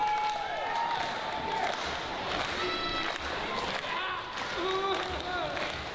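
A wrestling crowd at a live event in Pembroke roars and cheers steadily throughout, a dense, continuous wash of voices, with a commentator talking over it.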